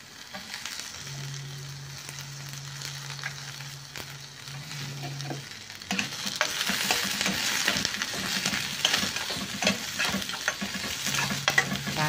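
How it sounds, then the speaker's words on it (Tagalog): Onions sautéing in a pan for ginisang pechay, a steady close sizzle and crackle that swells louder about halfway through, with a faint low hum under the first part and no talking. "Saan lutuin muna natin ng sibuyas para talagyan na po natin yung kamati"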